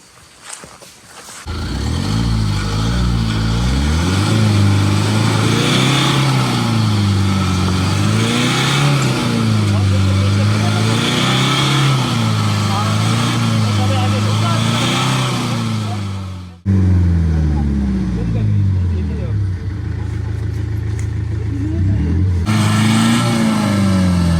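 A vehicle stuck on a muddy monsoon track in Kanha forest revs loudly in long rising and falling surges as its wheels spin in place, briefly easing off before straining again.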